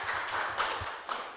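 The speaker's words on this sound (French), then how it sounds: "On peut les applaudir." Audience applause fills a conference hall at the end of a short presentation, a dense, steady patter of many hands clapping for under two seconds, moderately loud and close.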